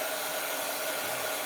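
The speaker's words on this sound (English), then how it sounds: "I'm going to dry that one before it tears." A hair dryer blows steadily on an ink-wet journal page, a continuous loud whooshing hum with no pauses or talk.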